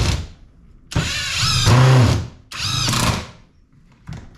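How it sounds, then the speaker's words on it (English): A Seesii WH700 cordless 3-in-1 impact wrench runs in two loud, close bursts of whirring motor with a rising pitch. A short, quieter whir follows at the end, with no talking. "This is an impact wrench, so it has a little bit more power to it than your normal."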